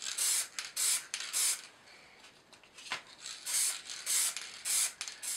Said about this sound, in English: I'm going to try and give it a coat of primer in black.